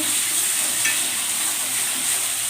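Tomatoes frying in a pan give a steady, loud, even sizzle and hiss that runs without a break and with no voices.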